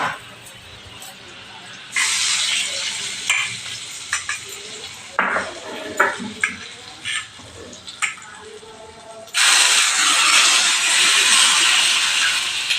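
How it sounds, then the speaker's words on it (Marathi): Hot oil and ghee tempering with cumin, green chilli and asafoetida poured over a red radish salad: two loud bursts of sizzling hiss, with quieter clinks and drips between them. "आता तेल तूप चांगलं तापलं त्यावर आपण जिरं घालणार आहोत जिऱ्याची खमंग फोडणी"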